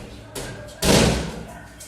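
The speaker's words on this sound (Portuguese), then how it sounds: "Fechar a porta." A single heavy door slam lands with a loud, broad thud, preceded by a softer bump and followed by a brief lingering rumble.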